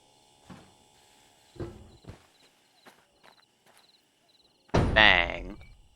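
Train cars coupling in the Derail Valley railway video game: a few light knocks and thuds, then one loud, sharp metallic bang that rings briefly and fades. No voices are heard.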